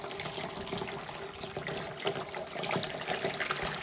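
Water gushes from a pipe into a filling tank, a steady, close rush that runs unbroken with no voices.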